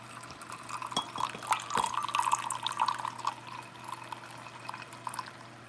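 Coffee pours from a French press into a cup, a close trickling stream with rising pitch and a few light clinks, alone without talk.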